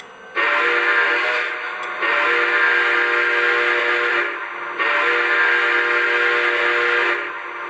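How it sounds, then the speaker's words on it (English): The whistle of a Lionel Legacy Milwaukee Road S3 Northern model steam locomotive, three long steady chime blasts separated by short gaps, loud and close with no talking. "I got the whistle."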